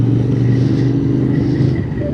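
A Royal Enfield Continental GT motorcycle accelerates in a loud, steady engine drone heard up close on the ride, with wind rush over it and no talking.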